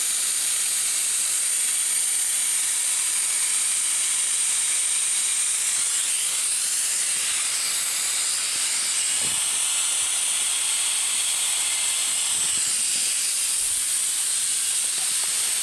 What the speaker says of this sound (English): You can see the oil coming out here, and it's sucking through the hose and dumping down into the bottle.